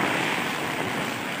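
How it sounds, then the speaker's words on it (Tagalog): Strong typhoon wind from Typhoon Ulysses during flooding, heard from a rooftop: a steady, loud, broadband roar that never lets up and carries no voices. "Sobrang lakas na po ng hangin."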